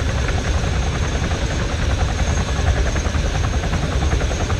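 A helicopter's rotor in Arma III thrums steadily and loudly throughout, a dense continuous chopping drone with an engine whine and no talking.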